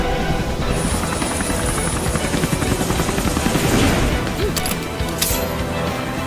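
Lara Croft's helicopter in an animated Death Battle fight gives a loud rotor thrum beneath impact-like crashes and whooshes, with a viewer reacting faintly in the background.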